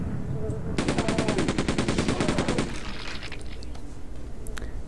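Rapid automatic weapon fire in Quake 2, a loud, evenly spaced burst of about twenty shots lasting roughly two seconds, then fading into game ambience.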